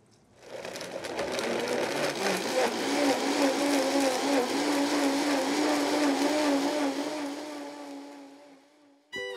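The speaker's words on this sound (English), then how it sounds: "what we're gonna do is puree it in the blender" A kitchen blender pureeing cooked green beans with basil, a sustained whirring motor running steadily for about eight seconds with a slight rising pitch, then cutting off before a brief clunk.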